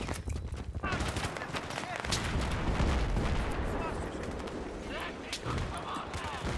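Rapid gunfire in a Battlefield game, dense bursts of shots near and far over a rumbling battle bed, with a voice talking over it.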